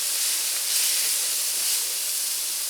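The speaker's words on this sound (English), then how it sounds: "heating the half and half in advance, this came right to a boil" Half and half cream sauce boiling hard in a pan, a steady bright hiss with a bubbling texture, close and continuous from start to end.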